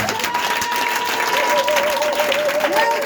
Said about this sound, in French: Est-ce que tu peux donner acclamation à Yahvé?